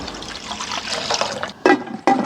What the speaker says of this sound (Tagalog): maglalagay tayo ng tubig, siguro mga half liter